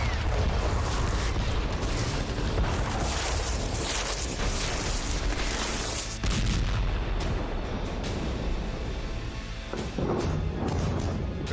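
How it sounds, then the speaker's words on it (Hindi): Air strikes hit the Yemen coast at night in a continuous barrage of loud, heavy blasts and booming thuds, dense and overlapping with almost no pause. "11 जनवरी की रात 2:09 पर यमन के तटीय क्षेत्र में धमाके शुरू हो गए।"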